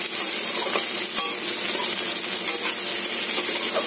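Okra sizzles loudly in a pan with turmeric for a crispy bhujia, a dense continuous frying hiss broken by scraping stirring strokes and one brief metallic knock.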